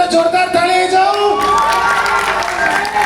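Crowd at a live comedy show in Berhampur breaks into loud clapping and cheering, with whoops and children's shouts rising sharply partway through and sustaining to the end.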